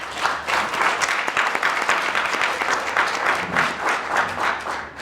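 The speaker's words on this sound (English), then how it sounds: "they deserve a round of applause for it" Steady audience applause at an annual general meeting, dense and continuous for several seconds at a moderate distance, with no voices over it.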